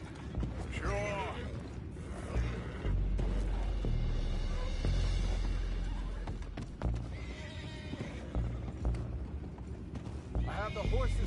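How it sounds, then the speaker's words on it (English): Horses neigh and whinny with clip-clopping hooves and creaking mechanisms in Red Dead Redemption 2, loud and close, with voices speaking intermittently over the scene. "I have the horses under control."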